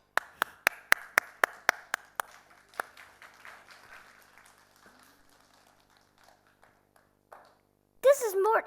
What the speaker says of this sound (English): Clap it again.